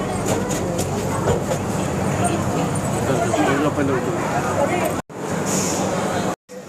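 Double decker train coming to a stop at Katpadi junction, steady rumbling rail noise with passenger chatter throughout, then two abrupt cut-outs near the end as the carriage falls quiet.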